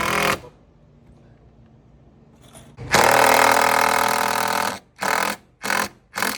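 Power tool driving nails into wooden balcony deck planks pressed tight with a jack, a long loud whirring burst followed by three short bursts, after a quiet stretch with faint noise.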